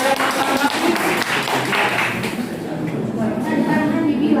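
Applause from a classroom of students, a dense burst of clapping that gradually thins out, fairly close and loud.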